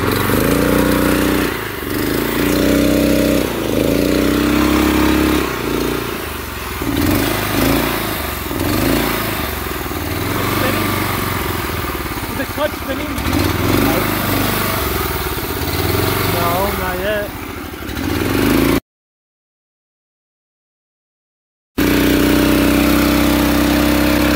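Honda GX340 engine on a cheap go-kart, running steadily with a rough, throbbing motor note close by, followed by a brief gap and then resuming.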